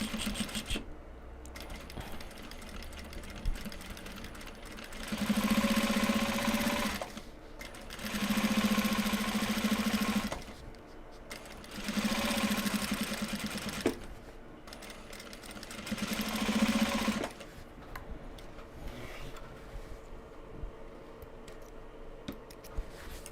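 Sewing machine stitches Japanese fabric bags in four short bursts of rapid whirring, each a few seconds long, separated by quieter pauses with fabric handling.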